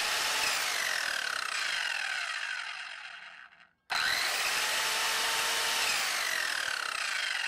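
Evolution 7-1/4 inch circular saw with a 40-tooth carbide mild steel blade spinning up to 4700 RPM: a loud high whine that winds down to silence, then snaps straight back up to full speed and holds.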